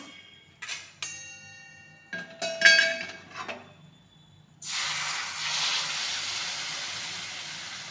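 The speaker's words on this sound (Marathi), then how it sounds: "आता ना याच्यात गरम पाणी टाकते मी" A few metallic clinks of utensils, then a sudden loud, steady hiss as hot water hits a hot pan for egg curry and keeps sizzling.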